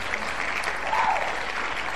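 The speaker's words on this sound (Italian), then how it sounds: "facciamo un applauso." Audience applause for a singer on a music radio show, a steady wash of clapping from a crowd, fairly loud and continuous for the whole moment.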